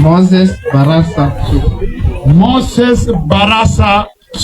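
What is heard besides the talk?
None of the usual background noises is heard.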